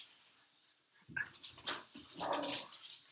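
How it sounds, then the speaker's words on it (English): Several dogs in a house break into excited yelps, whimpers and barks as someone arrives home, starting after a quiet second and continuing unevenly, moderately faint and somewhat distant. "Now the dogs are really gonna freak out."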